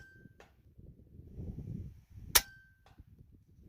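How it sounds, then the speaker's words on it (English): A .177 air rifle fires a Griffin 20-grain dish-base slug at an 80-yard target, one sharp, loud crack standing out from quiet outdoor rustling, followed by a faint click. "I just shot the 20 grains dish base."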